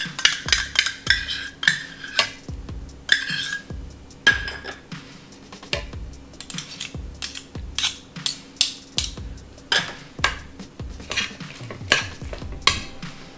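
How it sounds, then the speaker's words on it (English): Hawaiian coleslaw with pineapple is tossed in a bowl, producing rhythmic wet squelching and repeated clinks of the utensil against the bowl, loud and close. "See, it's mixing up very nicely."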